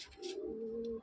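A caged pigeon gives a single close, soft, sustained coo lasting about a second, with a little faint rustling at the start.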